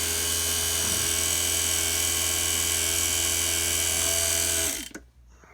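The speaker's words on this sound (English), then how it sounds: "Kill the vacuum pump." A vacuum pump running during a vacuum decay test on an HVAC system, a loud steady mechanical drone and whine that holds for several seconds, then cuts off abruptly and winds down into near silence.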